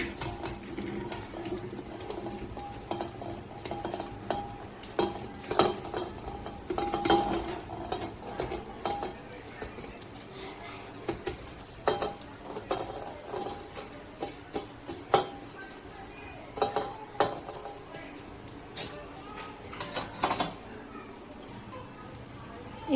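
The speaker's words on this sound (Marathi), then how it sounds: "नंतर आता आपण याला एका कुकरच्या भांड्यामध्ये टाकूया." Chopped cabbage, potatoes and other cut vegetables are tipped into a pressure cooker pot, giving irregular clattering knocks, thuds and scrapes of metal and spoon that come close and fairly loud over a steady kitchen background.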